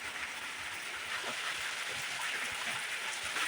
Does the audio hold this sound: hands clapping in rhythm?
no